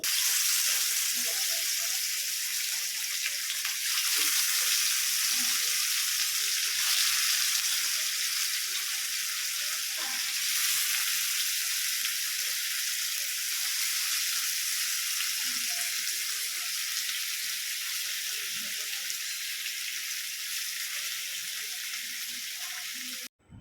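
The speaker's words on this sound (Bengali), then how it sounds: "একটা কড়াইয়ের মধ্যে এটা আমি কড়া করে ভেজে নিচ্ছি" Fish fries in hot oil in a wok: steady, loud sizzling throughout, a dense hiss with occasional pops and scraping.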